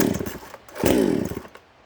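A Salem Master 6220 chainsaw at full choke with throttle hold is pulled to start, giving a short sputtering burst and then a second rough firing, close and loud.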